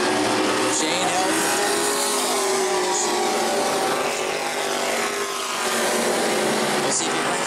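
E-Mod race cars at New Smyrna roar around the track in a continuous loud engine drone with passing swells, while a commentator talks over the racing.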